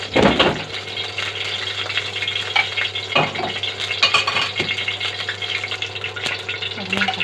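Garlic goes into two spoonfuls of oil in a cooking pot for shrimp kobeba, producing a steady close hiss with scattered metallic clinks and stirring knocks.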